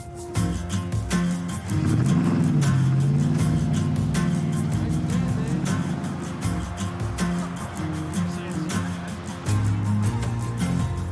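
Classic Ford and Holden cars at a rally in Healesville in the Yarra Ranges, one engine swelling to a loud, steady drone over a continuous background of motor noise for several seconds before easing slightly.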